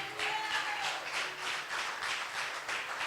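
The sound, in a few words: congregation applause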